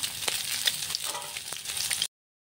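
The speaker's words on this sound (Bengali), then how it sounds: "ফার্স্ট আমি গরম কড়াইয়ে তেল দিয়ে ডিমগুলোকে ভালো করে ভেজে নিয়েছি।" Eggs fry in hot oil in a wok with a steady crackling sizzle and light spitting pops, then the sound cuts off abruptly.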